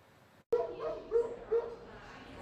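Dogs bark a few times in quick, uneven bursts at moderate distance, with yips mixed in, after a brief silent gap at the start.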